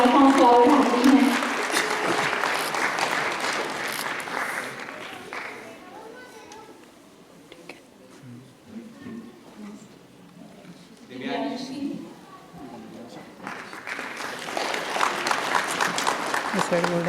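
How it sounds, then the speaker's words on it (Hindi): Audience applause at an award ceremony for NEET/JEE students, loud clapping at the start that fades under a voice and then swells again toward the end. "तालियां नहीं रुकनी चाहिए"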